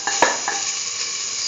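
Shallots hitting a hot pan, a sudden burst of sizzling with a couple of quick scrapes, then settling into an even, close hiss.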